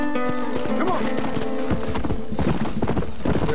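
Hooves of a horse clip-clop steadily in Red Dead Redemption, a rapid, loud rhythmic beat of galloping steps mixed with creaking tack and a brief whinny, with no talk.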